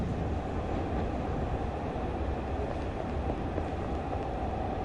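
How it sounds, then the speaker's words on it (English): A normal passenger train rolls past in the video game Train to Nowhere, a steady, loud rumble of rail wheels and carriages holding constant throughout, with no talk over it. "There's another normal passenger train."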